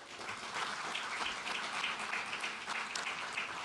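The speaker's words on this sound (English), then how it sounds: "Big round of applause for Firefly." An audience applauds at a NASA announcement event, a steady, even wash of clapping that holds for several seconds, soft and somewhat distant, with no voices over it.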